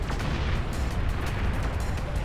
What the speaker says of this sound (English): Explosion. It's been anti-nuke.